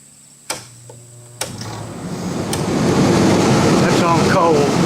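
A rooftop air conditioner blower on a converted school bus starts after a few clicks and builds into a steady, loud rush of air that fills the cabin and keeps rising in strength.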